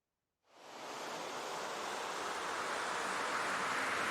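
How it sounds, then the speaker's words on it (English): A broad whooshing synth noise sweep swells in quickly and holds, brightening slowly as it rises, loud and steady with no talking. "towards the end of this section here, we have some effects here"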